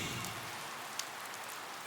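Gentle rain falling on a wet morning around an old railway station, a steady soft patter with one faint tap, heard alone without voices.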